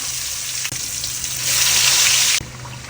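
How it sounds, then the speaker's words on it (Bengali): Pieces of fish crackle and hiss as they are laid into hot oil for a fish bhuna, a loud, continuous sizzle that swells in intensity partway through. "তেল গরম হয়ে গেছে আমি এইভাবে একটা একটা করে দেব"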